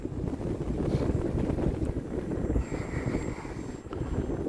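Strong wind buffets the microphone outdoors while a HobbyZone Aeroscout S RC plane flies, a steady rumbling roar with gusty swells and a faint high motor whine, no talk.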